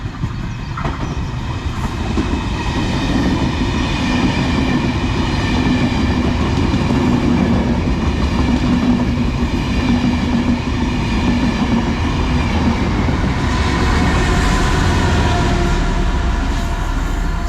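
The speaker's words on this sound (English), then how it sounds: "Should be formed of one of their class 201 locos. It's going fairly slow as well, so it's got to go around the curve." A train hauled by a class 201 diesel locomotive rolls slowly past around a curve, its steady rumble and rhythmic wheel clatter filling the scene at close range, loud and continuous without any voices.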